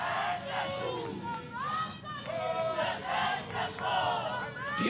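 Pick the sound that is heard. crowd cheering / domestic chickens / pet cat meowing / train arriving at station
crowd cheering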